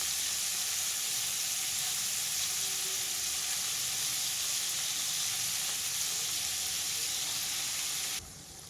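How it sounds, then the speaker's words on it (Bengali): Paneer cubes fry lightly in a pan for paneer Maggi, giving a steady, even sizzle close by that runs unbroken and drops slightly in level right at the end, with no talk over it. "পনিরগুলো আমি খুব ভাজা করিনি, হালকা করে ভেজে নিয়েছি"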